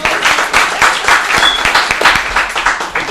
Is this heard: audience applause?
yes